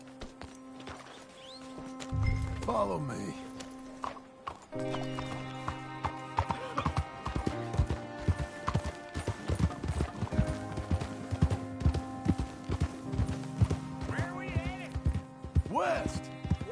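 Horse hooves clip-clopping into a gallop in the video game Red Dead Redemption 2, rhythmic and steady beneath occasional neighs, with someone speaking briefly over the trotting.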